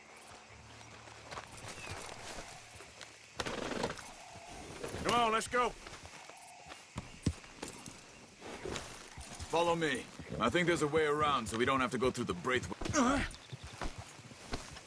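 Horse hooves clip-clop in the Red Dead Redemption II video game, with intermittent hoofbeats under frequent character dialogue and a music bed.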